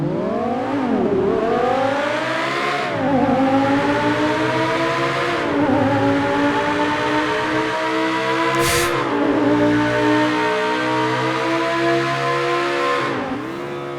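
An Obey Nine R sports car, modelled on the Audi R8 V10, revs hard in GTA 5, its engine note climbing and dropping through repeated loud rising sweeps with a brief gear-change dip, no talk over it.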